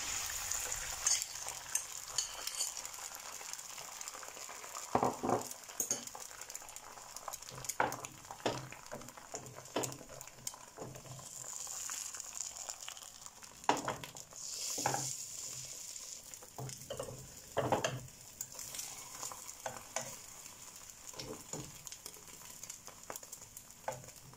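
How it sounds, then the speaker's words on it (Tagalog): Beaten eggs sizzle in melted margarine in a pan, a steady close frying hiss with scattered crackles and pops running throughout, no voices. "Ilagay na natin yung ating binati na itlog"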